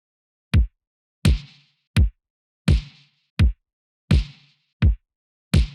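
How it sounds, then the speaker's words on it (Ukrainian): A synthwave drum pattern built in Ableton from kick, snare and hi-hat: eight evenly spaced hits alternating a short, deep kick with a kick-plus-snare crack that has a noisy, airy tail, looping steadily and clearly with no talk. "складається всього з 3 доріжок: кік, снейр і хай-хет."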